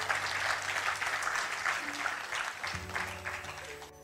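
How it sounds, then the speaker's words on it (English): An audience at an art competition award ceremony claps loudly and steadily for the jury members, dense applause filling the room with a low hum underneath. "A big round of applause to all my jury members."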